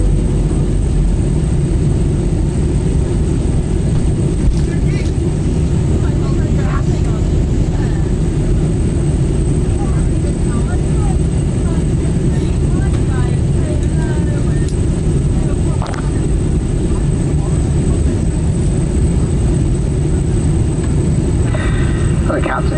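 A British Airways airliner descending into London Heathrow fills the cabin with a steady, loud roar of engine and airflow, continuous throughout, with a cabin announcement spoken over it.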